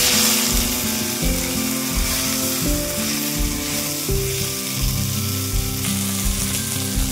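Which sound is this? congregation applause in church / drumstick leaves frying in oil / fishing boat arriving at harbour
drumstick leaves frying in oil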